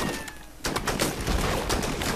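Gunfire in the squad combat game Full Spectrum Warrior erupts after a short quiet pause into a dense, sustained volley of overlapping shots at fairly close range.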